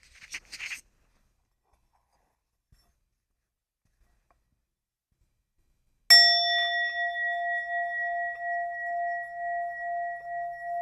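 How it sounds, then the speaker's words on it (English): A sound-healing bowl struck once, ringing out with a clear, sustained metallic tone that slowly pulses and lingers for several seconds after a brief rustle and silence. "let me not forget the sound bowl, the sound healing"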